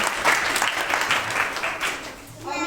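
Audience applause at a Christmas quiz program, a steady wash of clapping hands lasting a few seconds, fairly loud and continuous with a brief dip near the end, and no clear voices over it.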